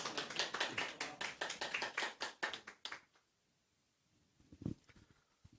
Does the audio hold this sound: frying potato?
no